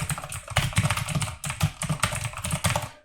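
Rapid, steady typing on a computer keyboard while entering database field names in Moodle, the key clicks loud and close in continuous bursts with brief pauses and no voices.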